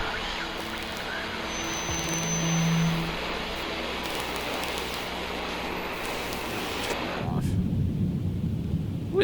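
Thunder from a lightning storm in Microsoft Flight Simulator rolls as a long, deep rumble over rain during a night landing at Transylvania, then gives way to a low, close roar near the end.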